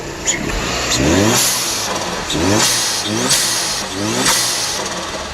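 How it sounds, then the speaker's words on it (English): A turbocharged car engine fitted with a blow-off plate revs repeatedly in rising pulls, each ending in a sharp airy whoosh from the blow-off, heard close with no talking. "the sound is nice and clear with that little blow-off plate"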